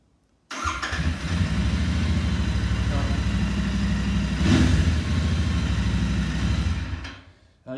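A Royal Enfield Interceptor 650 motorcycle engine catches after a brief crank and settles into a loud, steady, throbbing idle nearby, with a short blip of revs midway before it cuts off.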